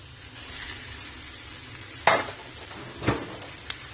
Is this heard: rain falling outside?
no